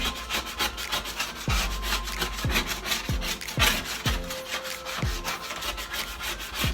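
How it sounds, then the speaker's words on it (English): A scraper rasps repeatedly across a stove top, lifting off a baking soda and lemon paste in close, steady rubbing strokes with regular sharp scrapes. "So we're gonna scrape as much as we can, and you can see what is coming up of the scraper already"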